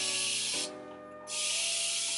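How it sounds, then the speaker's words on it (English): A spray bottle mists water onto thick 4A/4B natural hair in two loud, close bursts of hissing spray separated by a brief pause, with no talking over it. "then I'm gonna spray it with some water"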